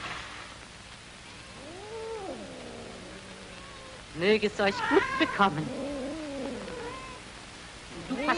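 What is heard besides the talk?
cats meowing and caterwauling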